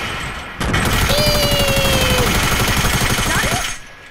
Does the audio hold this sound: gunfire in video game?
yes